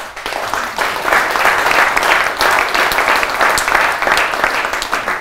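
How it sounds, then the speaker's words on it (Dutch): A crowd applauds steadily at a book presentation, dense clapping sustained throughout at fairly close range. "Dat applaus is zeer wel verdiend."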